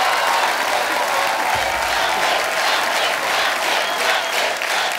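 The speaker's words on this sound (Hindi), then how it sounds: "जोरदार तालियां" A studio audience at a comedy show applauds loudly with dense, continuous clapping that fills the whole stretch, with crowd noise mixed in.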